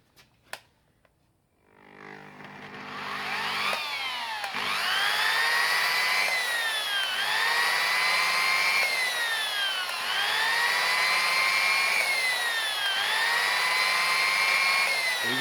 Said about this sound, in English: I just use a standard buff with standard buffing compound, and I have it fairly slow.